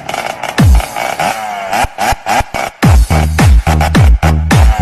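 A motorcycle engine revs in a series of loud, short bursts, each throttle blip rising and then dropping in pitch, repeating rapidly one after another.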